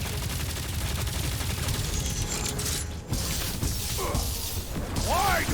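Rapid gunfire and flak bursts in the Guardians of the Galaxy video game, a dense, continuous rattle of shots and mechanical clatter with brief swooping effects near the end, loud and sustained.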